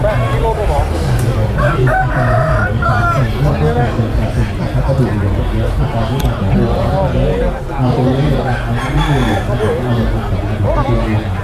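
Chickens and roosters at an outdoor Thai market, crowing and clucking loudly and continuously over a dense babble of shoppers and nearby talk.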